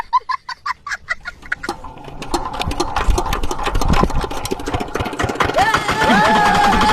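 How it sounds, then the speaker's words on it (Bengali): A generator running at an outdoor picnic starts with a few evenly spaced chugs, then settles into a loud, dense mechanical clatter, with some voices and sliding vocal sounds coming in near the end. "জেনারেটরের আওয়াজে নাচো"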